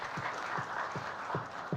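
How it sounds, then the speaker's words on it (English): An audience at a formal gathering applauds steadily, a dense wash of clapping that holds level throughout with faint rhythmic thumps beneath. "Give him a big round of applause."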